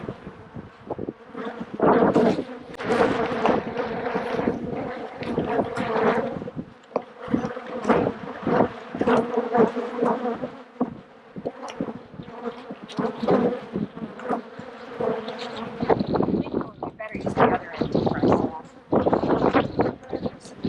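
Honey bees buzz densely around an open beehive during a hive inspection, a continuous close swarm drone with wind buffeting the microphone and people talking throughout.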